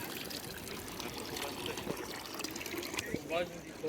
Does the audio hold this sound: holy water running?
yes